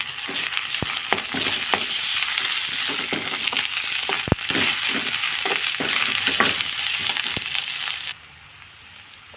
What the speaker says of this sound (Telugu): ఇందులో కొంచెం అల్లం పేస్ట్ వేసుకుందాం.